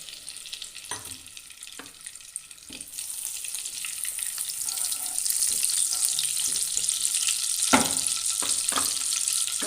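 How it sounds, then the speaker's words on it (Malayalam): Butter and oil sizzle steadily in a heated pan, a soft crackling hiss that grows fuller partway through, broken by a few light clicks and clatters of utensils; no one speaks. "ആദ്യം ഒരു പാൻ അടുപ്പത്ത് വെച്ച് ചൂടാക്കുക. അതിലേക്ക് കുറച്ച് ബട്ടർ ഇട്ട് കൊടുക്കാം."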